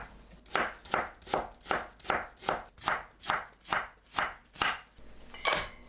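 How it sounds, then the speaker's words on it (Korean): A knife julienning radish on a cutting board, about eleven steady, evenly spaced chops close up, with a short pause before a final stroke. "무를 채 썰어주세요"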